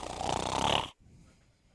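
A person imitates snoring with a loud, rough, rasping inhale lasting under a second, followed by quiet room noise.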